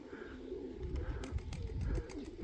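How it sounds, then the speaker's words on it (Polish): Pigeons cooing close by, soft low repeated coos over a faint outdoor background, with a few light flutters. "gołębie."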